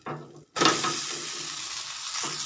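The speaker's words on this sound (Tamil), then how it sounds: "மாவு நல்லா வெந்துச்சு இப்போ திருப்பி போட்டுடலாம்" Dosa batter on a hot stone griddle, turned over with a sudden burst of loud, steady hissing sizzle after a brief scrape and pause, continuing close and unbroken.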